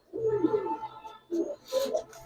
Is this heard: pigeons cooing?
yes